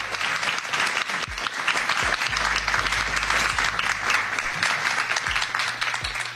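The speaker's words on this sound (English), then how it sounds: "if we can give them a round of applause" Steady applause from an audience honoring a deputy commissioner and nine equity planning commissioners at a New York City civic event, a dense wash of clapping throughout with a low hum beneath.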